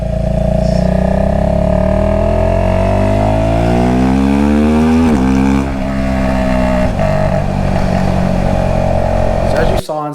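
A Husqvarna Vitpilen 401 motorcycle at wide open throttle on a freeway, a loud steady engine roar climbing in pitch through the gears for about ten seconds, with a brief shift dip midway and wind noise throughout.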